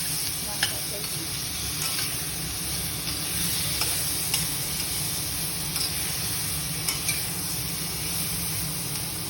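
A spice paste for bitter gourd fries in oil while being stirred, giving a steady close hiss and sizzle with occasional scraping clicks of the spoon against the pan, and no talk over it.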